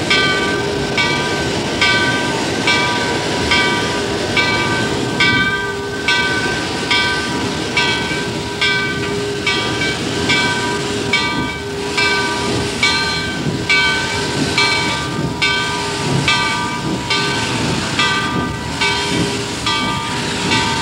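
Baldwin 2-8-0 steam locomotive No. 76 pulling two steel coaches on the Gettysburg Railroad, working steadily with rhythmic chuffing and hiss, a continuous mechanical rumble with repeating beats throughout.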